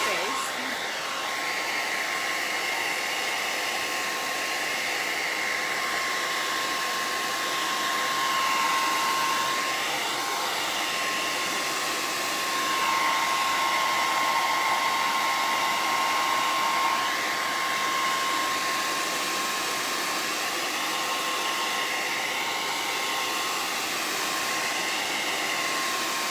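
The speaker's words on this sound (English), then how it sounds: "Blow it, dry it out of my face." Hair dryer blowing steadily on lacquer freshly painted on the reverse side of glass, a continuous close whir holding level for the whole stretch with slight swells in airflow and no talk.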